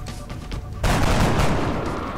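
Loud gunfire in XCOM: Enemy Unknown erupts abruptly after a brief quieter stretch and continues as dense, sustained bursts of game-style shooting.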